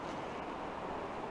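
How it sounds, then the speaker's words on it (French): A small mountain waterfall beside a hiking trail in the Pyrenees rushes in a steady, dense roar of falling water, close and continuous without any break. "On a une jolie petite cascade ici, sur la droite de mon chemin."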